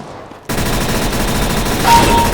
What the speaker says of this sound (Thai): มีการยิงช่วยกันยิงครับ